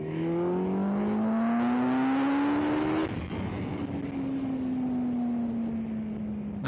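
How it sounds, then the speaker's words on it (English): A litre-class 1000cc motorbike engine pulls hard in A mode from around 30 mph, its rising note climbing steadily, then easing after a shift and continuing at a steady drone, with heavy wind rush throughout. "hopefully you heard the engine note there right at the start"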